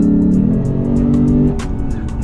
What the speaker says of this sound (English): 5-liter V8 sounds incredible, especially when you have it in Sport Plus mode. Opens up the exhaust, you're that roaring V8.